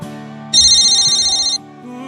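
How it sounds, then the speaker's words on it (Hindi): Telephone ringing in a Hindi TV drama scene, one bright electronic ring burst lasting about a second that cuts in over a soft background music bed. "फोन क्यों नहीं उठा रही है?"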